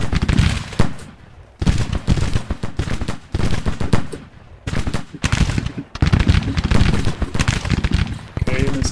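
Musket volleys from brigades firing in a Grand Tactician: Civil War battle, dense crackling gunfire rolling continuously with short lulls, loud and close, mixed with battle noise.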